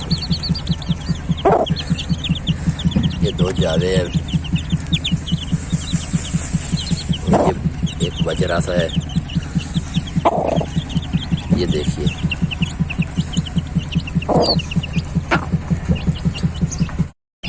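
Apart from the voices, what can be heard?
hens and chicks clucking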